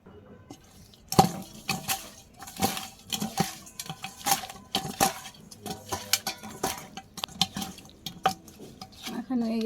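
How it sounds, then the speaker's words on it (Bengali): Fish pieces are mixed by hand with turmeric, chili and salt in a Bangladeshi village kitchen, giving close, irregular wet squelches and light clicks against a bowl. "হলুদ মরিচ লবণ দিয়ে মাখিয়ে নিব।"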